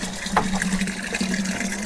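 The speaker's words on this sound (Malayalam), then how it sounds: "നല്ല ശക്തിയിൽ വെള്ളം വരുന്നുണ്ട്" Water rushes steadily and forcefully, a continuous close gushing flow with a low hum beneath it.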